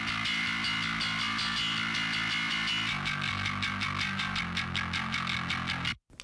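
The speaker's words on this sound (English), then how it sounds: "all of the high stuff. So all the clank and the grit," Distorted bass guitar high channel, full of clanky pick attack and gritty fuzz with little low end, playing a steady driving line loud and alone before stopping suddenly.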